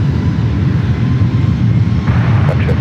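An airplane at San Francisco International Airport produces a loud, steady broadband roar that fills the short stretch without any pause.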